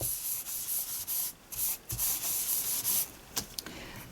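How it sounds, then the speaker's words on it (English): An embossing buddy is rubbed back and forth over paper while preparing to stamp and gold heat-emboss a design, giving soft, close, repeated scuffing strokes with brief pauses between them. "I've got my embossing buddy over the top first"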